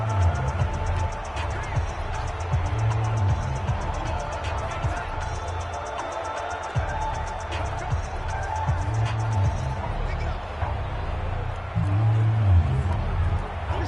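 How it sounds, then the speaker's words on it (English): Constant crowd roar fills the Dome at an NFL game between the Texans and Saints, loud and steady throughout, with a commentator talking over it. "The crowd here in the Dome making things difficult"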